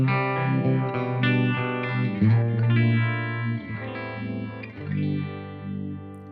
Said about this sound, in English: here's the clean channel on that first one